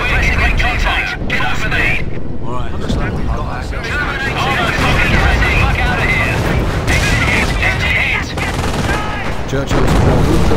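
Heavy gunfire and explosions in Company of Heroes, a WWII strategy game set in the 1944 Operation Bluecoat battle, with loud bursts of machine-gun fire and rifle shots rattling continuously and voices shouting over the battle.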